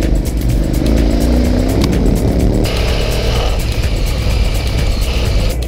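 A KTM 950 SE adventure motorcycle engine drones loudly while riding, its pitch climbing through the revs, then dropping as the throttle eases, with heavy wind noise throughout and no voices.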